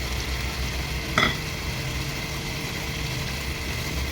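Chicken frying in a karahi as tomato puree and green chili go in, giving a steady close sizzle with a brief louder hiss burst partway through.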